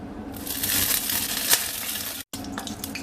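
Two bay leaves drop into melted fat in a pan for Punjabi chicken curry, with a burst of bright, crackling sizzle that stays steady and close, a brief pop at the midpoint, and a short gap before the frying resumes.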